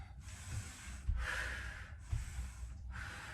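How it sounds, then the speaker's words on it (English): Heavy, rhythmic breathing during a cardio workout with weights, loud and close, with forceful exhales roughly once a second. "You can probably hear my breathing."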